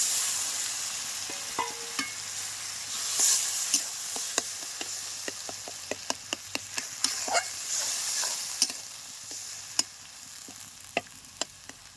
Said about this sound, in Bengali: যে তেঁতুলটা আমি ভিজিয়ে রেখেছিলাম, এই তেঁতুল ভিজানো জলটাই দিয়ে দেবো কচুর মধ্যে